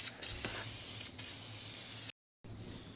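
Black spray paint hisses from an aerosol can onto a 40K cooler in steady bursts, with a short break before a final spray.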